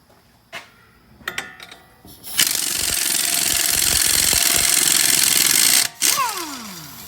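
A 21 socket wrench spins a rusty nut during ball joint work on a Dodge Journey, starting with a few clicks and knocks before a loud, sustained buzzing whir of power tool spinning that cuts out briefly near the end.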